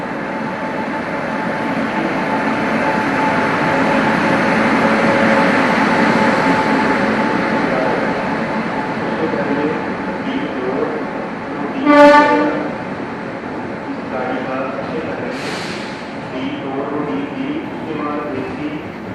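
Hirakud Express rolling into a station platform with a continuous rumble, then a loud train horn blast followed by a second, fainter horn, amid platform noise and people talking.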